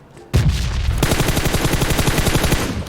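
Rapid automatic gunfire in PUBG Mobile, a fast loud burst of shots fired at a bot that keeps up steadily for a few seconds after one sharp opening shot.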